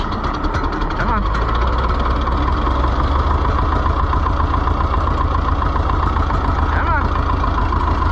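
An Oliver 1355 tractor engine runs with a steady, loud, knocking mechanical rumble throughout, while a voice urges it on briefly.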